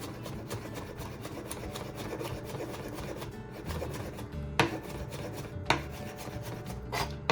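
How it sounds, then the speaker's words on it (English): A knife runs repeatedly across chicken on a cutting board, quiet rasping strokes with a few sharper taps against the board, close and alone with no talk. "And then start running your knife like that"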